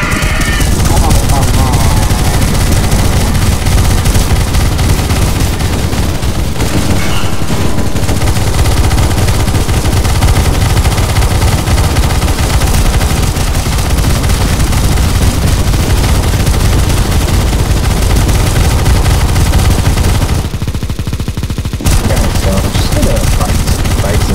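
Sustained gunfire in CS:GO Zombie Escape, shooting at an NPC, loud and continuous for most of the span with a brief drop near the end, mixed with game noise and occasional voices.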